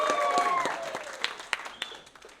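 Audience applause at a gallery event, starting with a dense burst of clapping over a few bright whistles that tapers into scattered individual claps.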